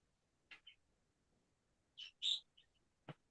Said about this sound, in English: Well, whose bird's that?